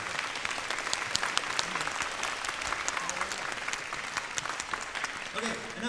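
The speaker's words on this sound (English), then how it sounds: "So can you give a round of applause for all the parents and family and friends that are here?" Steady audience applause at a winter middle school band concert, a continuous crowd of clapping hands with sharp individual claps over faint background chatter.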